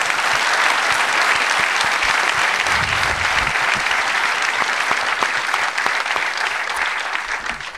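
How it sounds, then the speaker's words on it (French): A comedy show audience in France applauds a stand-up comedian, loud steady clapping filling the room throughout, tapering slightly at the end. "On peut l'applaudir."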